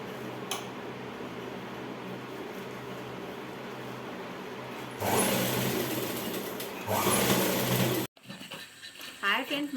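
A sewing machine stitching a luggage bag runs with a steady mechanical whir, with louder stretches midway and someone speaking over it near the end.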